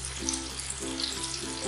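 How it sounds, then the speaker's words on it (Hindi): Maggi noodle cheese sticks deep frying in hot oil over a high flame, giving a steady, close bubbling sizzle throughout with no voices. "एकदम हाई फ्लेम पर हम इसे फ्राई होने देंगे।"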